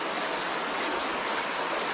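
A hot spring stream at Sai Khao flows over rocks as a steady, even rush of water, moderately quiet and continuous with no voices.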